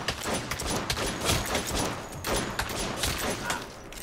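Pistol gunfire in the video game Saints Row, rapid repeated sharp shots in quick bursts with a dense, crackling volley feel, fairly loud and continuous.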